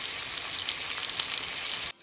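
Salted and peppered chicken frying in a pan, a loud, dense, even sizzle held close for about two seconds before cutting off abruptly.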